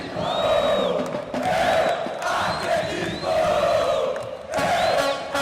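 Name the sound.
esports arena crowd cheering at CS match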